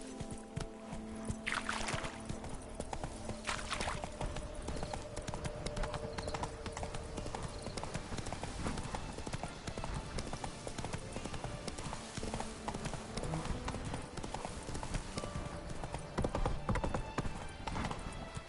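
The horse Roach gallops in The Witcher 3: Blood and Wine, a rapid, steady clip-clop of hooves sustained throughout, with some game ambience and faint speech in the background.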